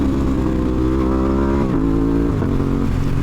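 A motorcycle engine holds steady, then blips its revs up and settles back down as it shifts, loud and close with no talking.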